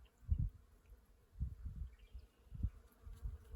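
Bees buzz around blossoming apple trees outdoors, a soft, low drone that swells and fades in several passes as insects fly near and away, with no talking.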